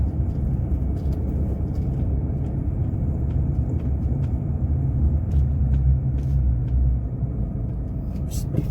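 Road traffic on a Sipalay road under construction, with one lane open: a steady low engine rumble of vehicles passing nearby, continuous throughout with small clicks and knocks on top.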